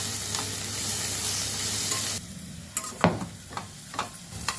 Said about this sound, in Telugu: ఉల్లిపాయలు వేగిపోయాయండి.